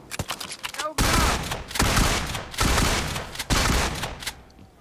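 Loud bursts of gunfire from a PUBG Mobile match, three heavy volleys with short gaps between them, mixed with voices talking.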